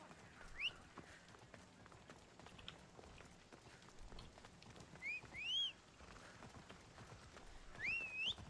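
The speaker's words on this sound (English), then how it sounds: "Man, this horse is so slow." Horse hooves clip-clopping at a steady gait in the video game Assassin's Creed Odyssey, rhythmic and soft against ambient game sound, with a few rising whinny-like calls near the middle and end.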